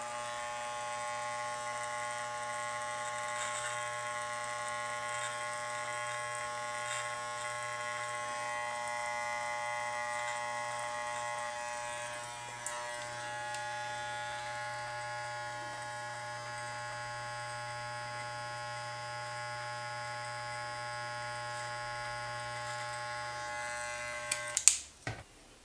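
Steady close buzzing of an electric trimmer blade cutting hair during a self-done beard lineup, a constant motor whine throughout with a few brief clicks and handling noises near the end.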